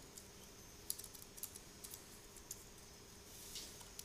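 A computer keyboard clicks softly as a page name is typed, in a quick, irregular run of light keystrokes with short pauses, quiet and close against a faint background hum.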